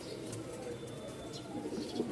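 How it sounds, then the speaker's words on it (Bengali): A male white King pigeon coos softly, its low murmuring call faint against quiet background noise over a couple of seconds. "এই যে এটা হচ্ছে মেলটা, মেলটার একটু ডাকটা দেখাই"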